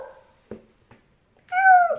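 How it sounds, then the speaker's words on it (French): A house cat yowls in a loud, drawn-out cry of about half a second, preceded by a few faint knocks and soft thuds in an otherwise quiet room. "avec mon chat qui est en train de hurler"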